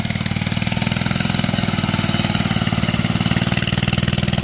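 A Bolens Husky 800 garden tractor engine with a slipping clutch runs steadily at close range, putting out a loud, even, rapid chugging throb with no voices over it.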